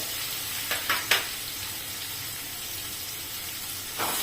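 Onion is frying with lentils in a pan, a steady close sizzle with a few brief stirring bursts near the start and one near the end.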